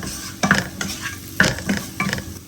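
Chili powder and garam masala being sautéed in a pan for tomato rice, with a spoon scraping and stirring in several distinct strokes over a soft sizzle, close and clear.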